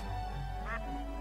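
A single short duck quack in the Simon the Sorcerer 3D video game, brief and moderately loud over a steady low background hum.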